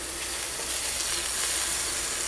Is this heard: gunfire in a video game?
no